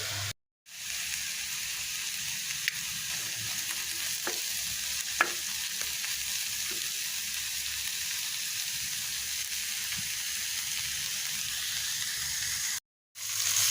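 Cut pointed gourd seasoned with salt and turmeric fries in hot oil, giving a constant close sizzle with occasional stirring clicks and two brief silent gaps.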